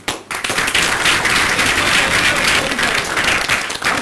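An audience at a group-discussion training session claps, a dense, loud round of applause that swells quickly and holds steady for several seconds without talk.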